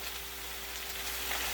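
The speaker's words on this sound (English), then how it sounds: "you hear it frying" Spinach sizzles steadily in a hot pan, a close, continuous crackling hiss with no voices.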